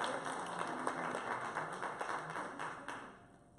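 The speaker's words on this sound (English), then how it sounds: "Let's give them some applause." Church congregation applauding together, a steady wash of many hands clapping at moderate distance that holds level and then tapers off toward the end.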